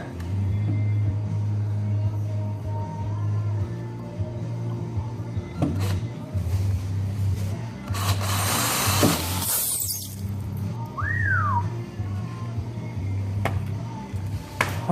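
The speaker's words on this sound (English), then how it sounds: "So I'm going to get most of that hole drilled" Power drill boring a hole through a car bumper, a continuous low motor whine with shifting load, a brief loud spraying burst midway, no speech.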